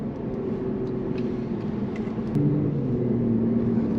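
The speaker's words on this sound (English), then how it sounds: "You have a nice, wonderful sounding engine note, exhaust note, but not too loud to be obnoxious and obtrusive." Engine and exhaust of an Infiniti Q60 Red Sport 400, a 2022 sports coupe, droning steadily at cruise from inside the cabin, low and muffled, with a slight rise in pitch and loudness near the end.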